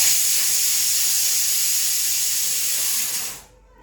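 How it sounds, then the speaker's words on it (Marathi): A loud, steady high-pitched steam hiss from a pressure cooker cooking pav bhaji, continuing unbroken for a few seconds before abruptly dying away. "कुकर लावलाय पावभाजीचं"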